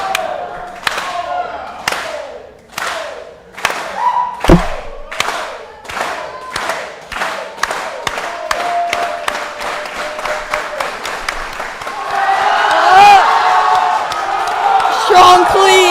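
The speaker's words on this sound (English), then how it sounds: "Getting the crowd going." A weightlifting competition crowd at an elite session roars and shouts, with a strong regular rhythm of claps that speeds up and grows louder, ending in a dense wall of cheering and whoops.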